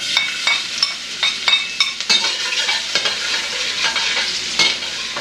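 Chopped garlic stir-frying in a hot pan, a steady close sizzle broken by repeated scraping strokes of a utensil against the pan, with no talking.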